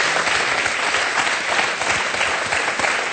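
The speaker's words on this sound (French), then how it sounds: "Applaudissez-le. Bravo." Dense applause from a French television studio audience on a talk show, a steady and loud wash of clapping that fills the whole stretch without pause.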